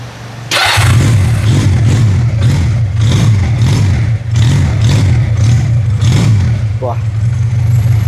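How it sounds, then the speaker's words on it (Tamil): An engine on a cheap used vehicle for sale in Jaffna cranks and catches, then revs repeatedly in rhythmic surges over a steady idle, close and loud, with people talking over it. "ஸ்டார்ட் பண்ணி காட்டுங்கண்ணா சத்தம்."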